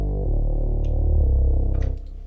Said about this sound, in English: My bass.